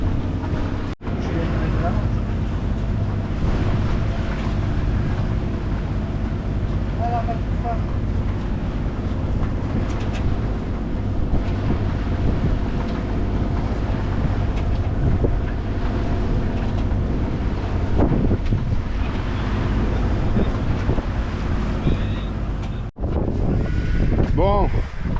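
A Sun Odyssey 30i sailboat moves under sail with the engine off, steady wind rush and water noise buffeting the microphone throughout, with faint voices now and then.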